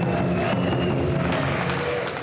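A Chinese crowd at a ping pong world championship final makes a steady, dense roar of cheering and scattered clapping that fills the hall, with no clear talk standing out.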